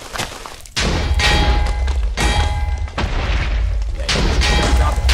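Heavy explosions from a video game: four loud, deep booming blasts at irregular intervals, each rolling into a dense rumbling tail, with barely a gap of quiet between them.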